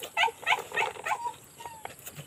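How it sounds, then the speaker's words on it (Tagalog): A dog whimpers and whines in a few short high-pitched bursts, fairly close, fading into quieter soft cries. "Naiyak yung aso namin."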